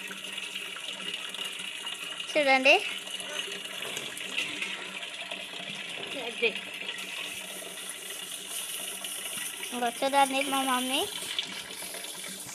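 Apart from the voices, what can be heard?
water running from tap, filling containers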